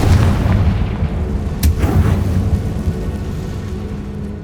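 A Bombarda explosion spell goes off in Hogwarts Legacy on PS5: a loud, deep boom with a rolling rumble that slowly fades, and a sharp crack partway through.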